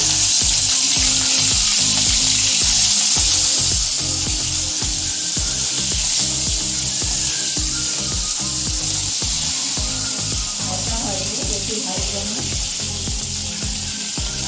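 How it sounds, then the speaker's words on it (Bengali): Hilsa fish heads frying in hot oil in a pan, a loud continuous sizzle with bubbling crackle that settles slightly after the first few seconds, with no talking. "তেলটা গরম হয়ে গেছে, এবারে ইলিশ মাছের মুড়োগুলো দিয়ে দেবো।"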